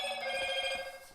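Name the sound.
mobile phone ringtone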